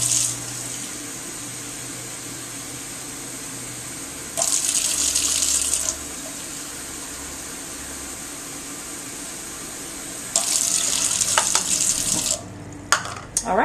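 Tap water runs into a cooking pot in bursts, about two cups measured in for a cup of quinoa in a home kitchen, with steady quieter background noise between the louder pours.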